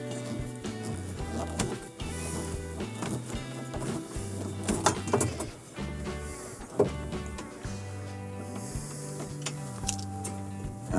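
A screw being driven into a dishwasher anchoring bracket, with a power driver's motor whirring in short stepped bursts, stopping and restarting, plus small ticks and clicks close by.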